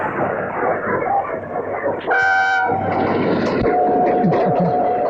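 A train rumbles past close by, its horn blaring briefly partway through, with steady wheel and carriage noise continuing afterward.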